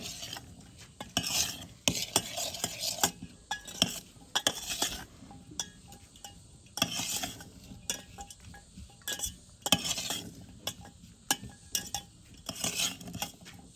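Home-ground salt stirred into a mixture in a pan, repeated bursts of scraping and clinking utensil strokes against metal with brief pauses between, close and fairly loud, no talk.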